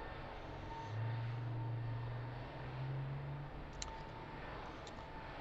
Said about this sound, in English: It's a Airbus 320